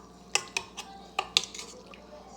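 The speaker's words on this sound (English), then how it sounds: "I normally just give it a quick stir" A spoon stirring a yeast mixture for cinnamon rolls in a bowl, a few quick, close clinks and scrapes of utensil against the bowl, then quieter.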